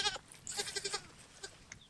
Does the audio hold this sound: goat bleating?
yes